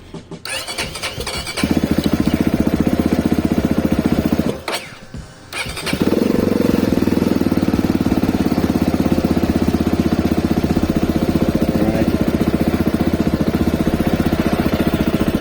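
A CSC RX3 motorcycle with a freshly serviced engine cranks and fires up, cuts out briefly, then restarts and settles into a steady, loud, close idle, with no talking.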